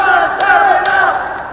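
A wrestling crowd chants loudly at Primetime, a short, sustained burst of massed voices with rhythmic accents, close and filling the arena.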